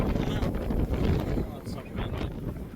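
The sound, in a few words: wind blowing by the water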